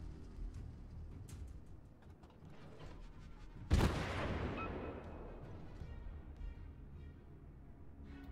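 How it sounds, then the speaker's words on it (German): A heavy naval gun salvo booms once in the World of Warships video game as shells strike water, a sudden loud blast that rolls off into a long rumbling tail over steady background noise. "Deswegen gehen jetzt die Schüsse ins Wasser, die sonst noch getroffen hätten."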